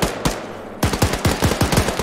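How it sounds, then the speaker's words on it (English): Rapid automatic gunfire in a video game aimed at vehicle tires, a short burst, a pause, then a fast string of loud, close shots with no talk. "I was just shooting the tires."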